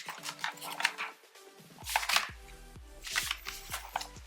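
A motherboard being pressed down onto its mounting pins inside a computer case, giving several sharp, close clicks at uneven intervals.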